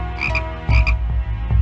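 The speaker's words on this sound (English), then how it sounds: "The croaking frog." A cartoon frog in the Pocahontas Animated Storybook game croaks loudly and close, a few deep throaty croaks in quick succession with no talk over them.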